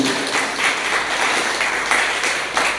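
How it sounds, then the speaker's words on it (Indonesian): A church congregation applauds during a Sunday service, a steady wash of many clapping hands that swells in slight waves, loud and continuous throughout, with no one speaking over it. "Tepuk tangan dulu."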